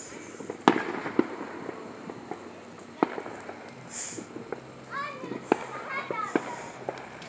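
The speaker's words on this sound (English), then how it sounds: "there's a lot of fireworks going off in my area." Neighborhood fireworks and firecrackers on the Fourth of July pop and bang at uneven intervals, some sharp and close, others farther off, while children shout and play nearby and a voice talks over the scene.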